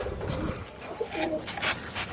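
Domestic pigeons coo in a loft, a short close murmur of low cooing over a rustling background, no clear speech.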